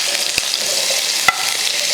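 Thickly sliced onion fries in oil in a pan for chicken kondattam, producing a steady close sizzle with two sharp clicks of a utensil against the pan, and no talking.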